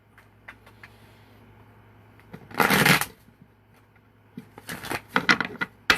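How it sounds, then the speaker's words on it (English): A deck of tarot cards is shuffled up close, with a long rippling riffle burst followed by quieter handling taps and another rapid flurry of shuffling. "I'm going to shuffle it one more time."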